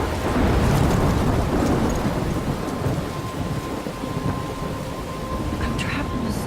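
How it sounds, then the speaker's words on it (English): A loud thunderstorm in the Life Is Strange video game pairs heavy, steady rain with a deep rolling rumble of thunder, close and enveloping throughout. "I'm trapped in a storm."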